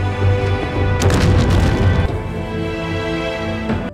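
A heavy explosion from an attack in an animated martial-arts fantasy film hits loudly in the middle. The booming crash rises over dense layered score and then decays into a sustained orchestral backdrop.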